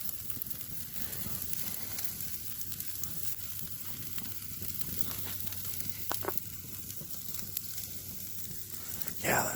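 Steak fillets sizzle and fry in a hot pan at midnight, giving a constant close crackling hiss with scattered pops throughout.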